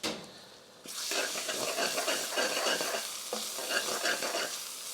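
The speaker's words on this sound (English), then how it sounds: "this onion's been caramelizing for a good 10 minutes on a medium-high heat" Onion caramelizing in a pan over medium-high heat for a lamb korma, giving a loud, continuous sizzle and frying hiss with stirring scrapes throughout.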